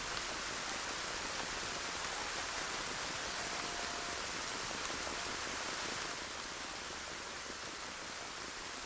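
Steady rain ambience in the video game Black Geyser, a dense, even hiss of falling rain with faint pattering drops, continuous throughout and easing slightly in level near the end.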